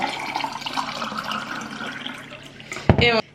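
Water runs steadily into a glass holding a little lime syrup, a continuous pouring wash that ends in a brief, louder splashing burst.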